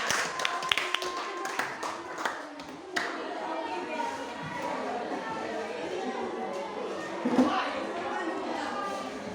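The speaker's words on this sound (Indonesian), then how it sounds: "Tepuk tangan untuk kelompoknya." A classroom of students applauds a group: scattered taps at first, then a stretch of fairly steady, moderately loud clapping that continues with children's chatter and voices mixed in.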